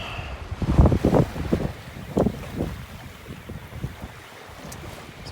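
A sailboat close hauled in a southeast wind off Brooks Peninsula on the west coast, making about 5.5 knots, with gusty wind buffeting and water rushing and slapping at the hull, loud and close.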